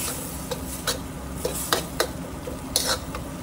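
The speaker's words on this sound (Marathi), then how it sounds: "आता मी टाकत आहे तुरीचे दाणे याच्यामध्ये बारीक केलेले" Ground pigeon peas being stirred into a simmering amti curry in a pan, giving a soft steady sizzle with scattered clinks and scrapes of a spoon against the pot.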